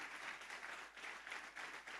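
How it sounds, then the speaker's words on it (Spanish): A congregation claps during a Spanish-language Sunday evening church service, a brief steady patter of applause from many hands at moderate volume. "¿Cuántos le dan un fuerte aplauso a Dios si lo vas a aplaudir?"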